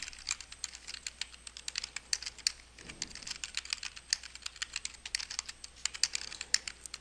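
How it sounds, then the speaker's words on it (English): Fingers type steadily on a computer keyboard, a close, crisp run of rapid key clicks with uneven rhythm and brief pauses, heard alone. "And then I simply begin typing."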